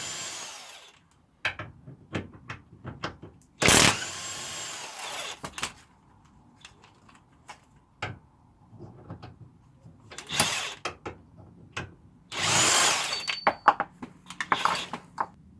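An impact wrench buzzes in several short, loud bursts loosening 16mm suspension bolts on a VW Sharan, separated by metallic clinks and clatter of parts and tools.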